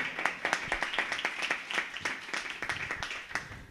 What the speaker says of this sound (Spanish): damos también una fuerte ovación